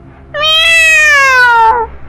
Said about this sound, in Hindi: बिस्तर पर मिसेस विक्रम की बिल्ली घूम रही थी